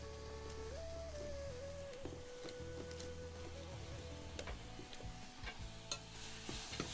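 Stinging nettle greens sizzle and crackle in a hot wok, sticking to the bottom while being stirred, with scraping clinks, a faint tonal hum and steady frying hiss throughout.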